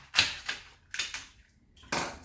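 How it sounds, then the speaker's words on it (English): Knife cutting the back off a bunch of celery, three or four crisp, sharp chops with short pauses between them, close and fairly quiet. "So what I'll do is I'll cut off the back of the celery."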